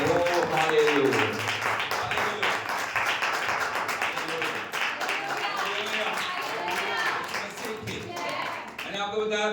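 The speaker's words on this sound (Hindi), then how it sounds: "ताली बजा के हम प्रभु के नाम की तारीफ करें।" A church congregation claps in praise, quick rhythmic clapping spread through the room and running throughout, with a preacher's voice talking over it.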